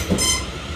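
Class 450 train 450004 passing at Clapham Junction makes a short burst of rumbling wheels with a faint high squeal, steady and fairly close, with no talk.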